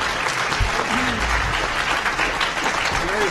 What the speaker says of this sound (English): give this panel a grand applause